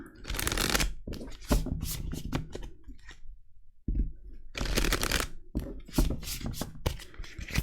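Oracle cards shuffled by hand for a tarot-style reading, a run of close, crisp riffling bursts with a short pause midway, heard alone.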